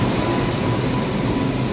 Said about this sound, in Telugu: మనం వచ్చిన ట్రైన్ ఇంజన్ ఇదే అన్నమాట